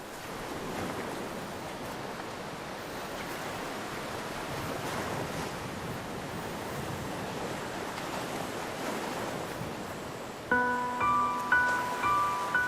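Ocean waves break on rocks along a rocky island shore, a steady roaring wash of surf with wind noise that swells and recedes, close and continuous. Brief tonal sounds enter near the end.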